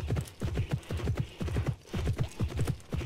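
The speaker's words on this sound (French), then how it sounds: "Plus j'appuie, plus mon cheval accélère." A horse gallops in the video game Alexandra Ledermann Le Haras de la Vallée, its hooves striking in a steady, quick rhythm of clustered beats that carries on unbroken with no talk over it.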